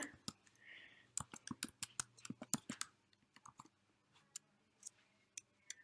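Someone types a short command on a computer keyboard: a quick burst of crisp key clicks that slows into a few scattered taps, quiet and close with no talking.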